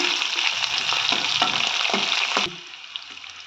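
Green chillies and onion fry in hot oil for cabbage rice, a dense close sizzle with irregular stirring scrapes that suddenly drops to a quieter hiss near the end.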